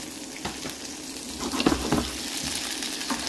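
Langoustines frying in butter and oil: a close, steady sizzle with bursts of louder spitting and crackling, and no voices.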